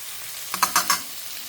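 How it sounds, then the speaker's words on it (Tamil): Spice powders for a peas and paneer pulao sauté in a pot, including coriander, cumin, garam masala and amchur powder. A soft sizzle runs under three quick, close scrapes of a spoon. "ஸோ இது எல்லாமே போட்டு லேசாக வதக்கிக்கலாம்"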